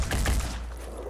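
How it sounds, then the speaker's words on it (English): An enemy mortar fires in the video game Phoenix Point, a quick burst of muffled thumping blasts up close that rumble briefly and then fade into a low tail. "That is a mortar."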